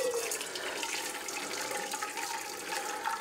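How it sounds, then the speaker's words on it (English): Walnut leaf dye liquid strained through a colander into a pan, a continuous close pour and trickle of liquid with a faint tonal ring from the metal underneath. "now we're gonna strain this into the pan here, using a colander"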